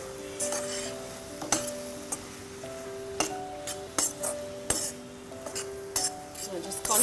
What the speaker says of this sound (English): So just constant stirring